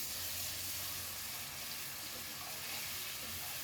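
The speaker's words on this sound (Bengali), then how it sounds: "এটা তেলের মধ্যে আমি কিছুক্ষণ ভেজে নিব" Blended onion paste fries in hot oil with whole garam masala in a pot, giving a continuous, even hiss that stays steady and fairly quiet for a few seconds.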